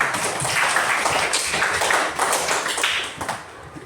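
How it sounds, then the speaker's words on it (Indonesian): Children in a classroom clap their hands together in a busy, slightly uneven burst of applause that tails off toward the end. "Ya, berikan tepuk tangan."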